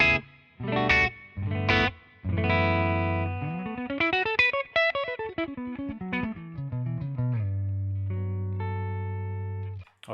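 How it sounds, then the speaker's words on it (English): Electric guitar through a ToneX capture of a 1967 Twin Reverb amp with spring and room reverb: a few separate chords, then a rising and falling run of clean single notes ending on a long sustained low note, clear and solo. "paired up spring reverb and a room reverb, so I can get that feeling of a tube-driven reverb amp in the room"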